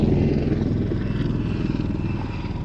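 Royal Navy Wildcat helicopter performing a flying display at Cosford Airshow, a steady loud rotor and turbine roar with rhythmic blade chop continuing throughout.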